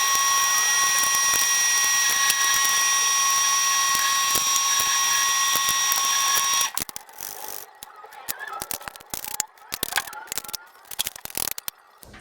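Ratchet tightening valve cover bolts on a 1968 Ford Galaxie 500 during a gasket replacement, steady mechanical whirring for several seconds, then scattered short clicks and light tool taps nearby.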